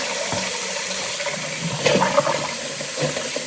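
Cold tap water runs into a pot of freshly pressure-cooked eggs in a kitchen, a steady pouring rush with a brief stronger gush partway through.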